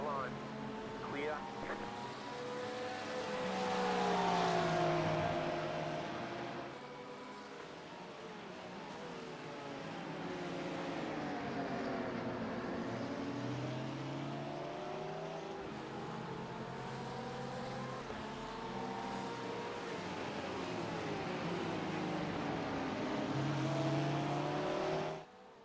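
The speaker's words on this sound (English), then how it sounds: "These Porsches really put the power down nicely." Porsche race cars in the iRacing sim at Daytona during a 24-hour endurance race. Engines rev and accelerate through the gears in long rising and falling sweeps, the engine note steady and prominent, with talk over it.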